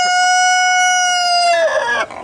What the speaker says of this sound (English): Chinese crested goose,